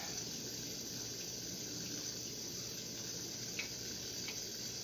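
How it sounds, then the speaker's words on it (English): Steady, low hiss of water flowing through a Nelson sprinkler just cleared of a clog, constant and moderately faint throughout with no talking. "Water traveling through."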